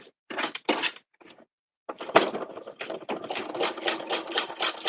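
A sewing machine stitching reverse appliqué around a cut oval in fabric, running slowly in short close bursts with brief pauses before settling into a steadier whirring stitch.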